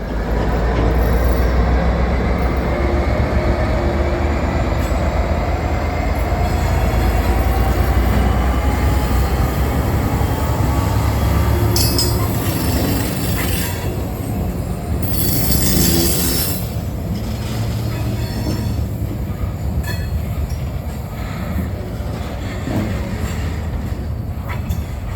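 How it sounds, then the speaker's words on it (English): A single freight locomotive hauling a string of rail cars up a grade at Galesburg, Illinois, a deep continuous diesel rumble with squealing wheels and metallic screeches cutting in partway through, steady and fairly close. "this lone locomotive is pulling them with ease, and up a grade no less"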